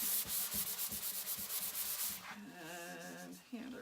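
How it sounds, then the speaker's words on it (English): Wood being hand sanded with 220 grit sandpaper, rhythmic back-and-forth rasping strokes up close, then a smoother, squeakier rubbing stretch before a final stroke. "I am using 220 or 250. 220 sandpaper. It'll give me a nice velvety surface."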